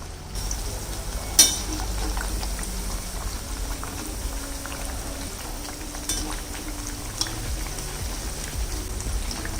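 Almond sweet puris deep-fry in moderately hot oil, a steady close bubbling sizzle that runs continuously, with a brief sharp clink near the start.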